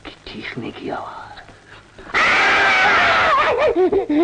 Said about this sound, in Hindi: उसकी चीखने की आवाज।